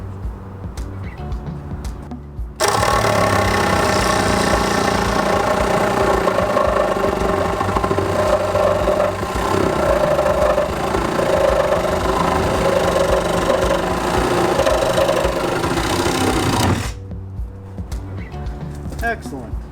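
A Sawzall reciprocating saw cuts through a fence panel, a loud continuous buzzing that starts abruptly and runs for about fourteen seconds before stopping, with quieter shop ambience before and after.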